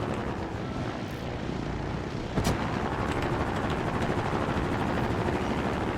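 A VTOL craft in the Trailmakers video game flies with its jets and propellers rotated forward, giving a steady, dense engine roar. A brief sharp burst cuts in midway before the drone carries on loud and continuous, with no talk.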